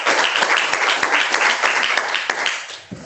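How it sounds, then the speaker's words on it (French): An audience in a lecture hall applauds loudly and densely for about three seconds, then the clapping thins out near the end. "j'entends des applaudissements."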